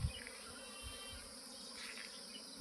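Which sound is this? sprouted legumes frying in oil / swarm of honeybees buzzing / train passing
swarm of honeybees buzzing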